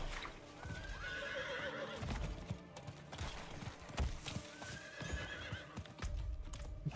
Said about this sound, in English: Traveling on the horse.